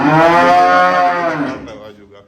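A dairy cow on sale at a farm lets out one long, loud, close moo that slowly fades over about two seconds.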